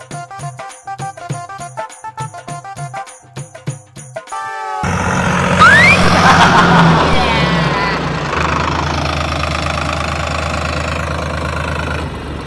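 A tractor engine revs hard after a stretch of rhythmic tapping, a loud, rough mid-range roar with knocking texture that holds and swells, its wheels apparently slipping on the ground.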